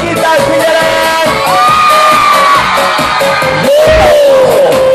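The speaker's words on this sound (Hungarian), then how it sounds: "egy hatalmas sikítás, figyelem!" Loud concert crowd at an outdoor summer party show in Apátfalva, screaming and whooping continuously across the whole stretch with a sustained roar and rising shouts over music.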